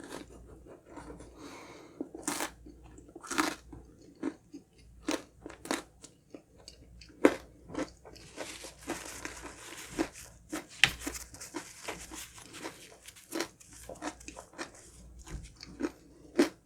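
Biting into and chewing a sticky Red Ribbon honey crunch cake, with repeated crisp crunches and sharp bites at close range, busy and irregular throughout, with no talk.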